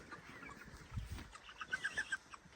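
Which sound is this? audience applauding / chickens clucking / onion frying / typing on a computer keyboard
chickens clucking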